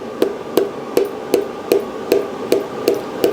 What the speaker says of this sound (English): you're just using the soft end of the hammer there just to gently press it in